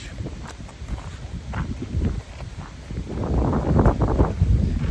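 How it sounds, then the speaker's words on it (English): Gusting wind buffets the microphone outdoors in a park ahead of a storm, rumbling low and rising stronger toward the end, with faint rustling underneath. "It's very windy, and there's a storm coming."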